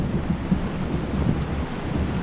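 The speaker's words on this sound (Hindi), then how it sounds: "बारिश भी रुकने का नाम नहीं ले रही है।" Heavy rain pours steadily in a movie scene, with low rumbling thunder rolling underneath, a dense, continuous storm wash with no voices.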